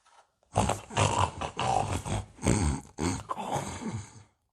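A voice imitates a wolf snoring: a run of rough, drawn-out guttural snorts and groans, loud and close, repeating in a slow rhythm.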